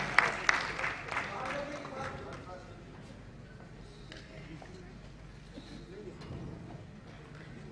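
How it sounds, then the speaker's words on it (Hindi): Applause from an audience swells near the start, then fades into a thinner patter that continues under a murmuring crowd. "मखमूर काकोडवी साहब कृपया करतल ध्वनि से स्वागत करें। आपके तालियों की आवाज कम नहीं होनी चाहिए।"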